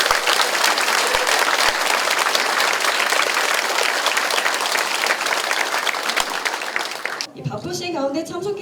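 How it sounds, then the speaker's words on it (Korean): Loud, sustained applause from a gathered crowd opens a campaign office inauguration for a National Assembly candidate in Mapo, Seoul, clapping steadily for about seven seconds before cutting off as a voice begins speaking. "선거사무소 개소식을 힘찬 박수로 시작하도록 하겠습니다"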